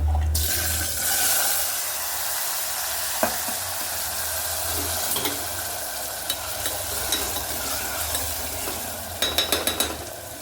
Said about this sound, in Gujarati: ત્યારબાદ આપણે નાખી દઈશું બટેકા